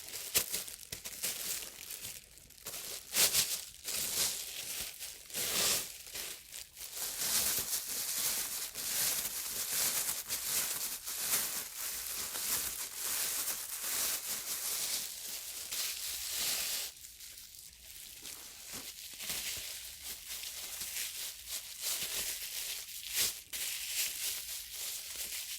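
A plastic grocery bag is folded and crinkled up close, giving a long run of crisp rustling and crackling with uneven bursts and short pauses as it is handled.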